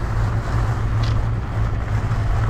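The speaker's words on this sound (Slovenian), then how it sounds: "Scuzi pelje normalno." A Scoozy vehicle driving on coarse gravel around a hillside church in Slovenia, a steady rumbling motor and crunching road noise throughout, close and continuous with no talk.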